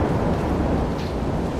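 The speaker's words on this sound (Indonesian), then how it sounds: "Kilat menyambar-nyambar, badai semakin kuat dan kapal besar pun ikut terbunuh." Storm sound effect of thunder and heavy weather, a dense low rumbling roar with rain-like hiss, loud and continuous throughout with no voices.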